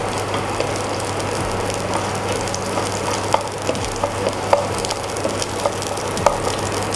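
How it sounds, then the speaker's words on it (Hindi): Green chillies fry in hot ghee, giving a steady, close sizzle with scattered sharp pops and crackles spread evenly across the clip. "जब घी गर्म हो जाए तो इसमें डालें हरी मिर्च, थोड़ा सा मिर्ची को फ्राई कर लें।"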